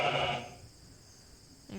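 Sheep, rams and ewes, let out a single close, loud bleat that trails off into quiet, followed by a brief second sound at the very end.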